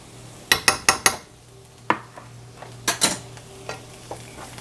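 Yellow curry paste stirred in a cooking pot, with a quick run of four sharp spoon-on-metal clanks followed by scattered single knocks and soft scraping over a faint steady hum.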